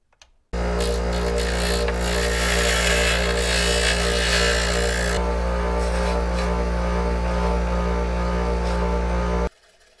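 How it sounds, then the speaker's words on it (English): Bench grinder spinning a wire brush to clean burrs off metal, a loud continuous whine with a steady motor hum and the harsh rasp of wire on metal. It runs unbroken for about nine seconds, close and with no talk. "clean off these burrs here with the bench grinder and the brush"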